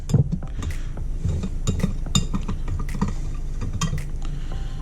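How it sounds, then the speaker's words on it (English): A whisk stirs flour and spices in a bowl with quick, close metallic clinks and taps in a busy, uneven rhythm. "we are going to stir the flour with a whisk just to get the spices mixed throughout the flour quickly"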